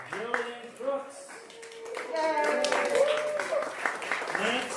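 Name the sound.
congregation applauding vestry candidates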